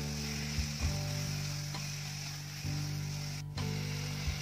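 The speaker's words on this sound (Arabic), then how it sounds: "هقلبه كويس وانزل بالطماطم" Thinly sliced small tomatoes frying with peppers in a pan, a steady close sizzle with a few soft knocks as the mixture is stirred.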